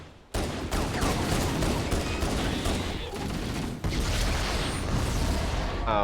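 Grenade explosions in the Halo video game: loud booming blasts and dense crackling gunfire fill the whole stretch, with a heavy burst near the start and another midway.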